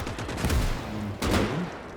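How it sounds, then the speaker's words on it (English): Mortar fire during a World War II tank battle in Gates of Hell Ostfront, shells launched at StuG assault guns: two heavy, booming reports about a second apart over a constant roar of distant battle noise. "The mortar is hopelessly trying to shoot the Stugs, the tanks."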